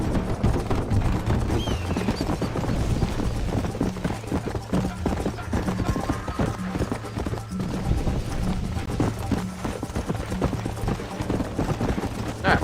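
Horse hooves gallop in the Red Dead Redemption video game, a fast, steady clip-clop that carries through the whole stretch, loud and close, with scattered gunfire-like pops mixed in.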